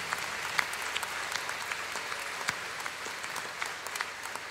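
An audience at a live concert at GORS applauds for a Latvian band, a dense, steady patter of many hands clapping nearby, sustained and fairly loud without a break.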